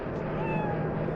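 A ghost cat in the video game Echo Night: Beyond gives a single drawn-out meow over a steady background hum, with no talking.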